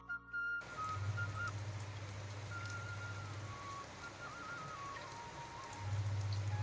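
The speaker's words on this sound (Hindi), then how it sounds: "मैं दिखाती हूँ आपको 9 बजे का मौसम और बाहर की झमाझम वाली बारिश।" Steady heavy rain hisses outside in a village at night, with a faint wavering whistle-like tone and a low droning hum coming and going underneath.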